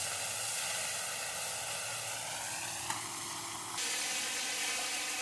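Pieces of Bain eel fish frying lightly in hot oil in a pan, a steady soft sizzle and hiss that keeps going, with a brief shift partway through and no talk.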